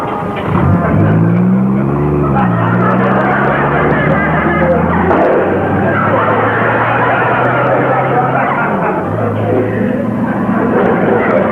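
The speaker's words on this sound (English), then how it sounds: "I'll start the car." A car starts and pulls away in an old television comedy, its engine rising in pitch and then droning steadily while it drives, loud throughout, with voices and bustle mixed in.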